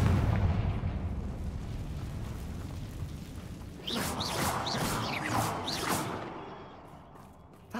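A Confringo fire blast spell in Hogwarts Legacy bursts with a rumbling boom, followed by a cluster of crackling, sizzling impacts midway before fading.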